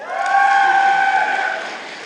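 A cheering squad whoops and shouts in a large hall during a graduation convocation. High, sustained voices rise, hold for about a second, and then taper off.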